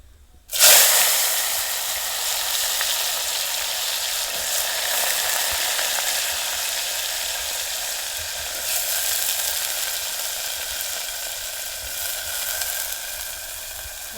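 Chopped onion and asafoetida hit hot oil for a tuvar dal tadka, bursting into a loud, steady sizzle that holds evenly throughout with faint stirring scrapes and no talking.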